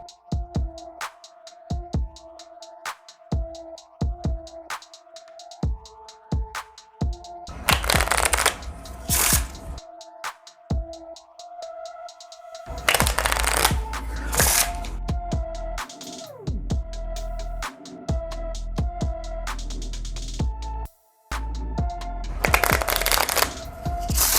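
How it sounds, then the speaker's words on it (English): Marvel Champions playing cards shuffled by hand during a solo tabletop card game, with a run of quick crisp riffle bursts and light flicks, close and loud, with no voices. "we're going to shuffle Astral Projection back into the deck"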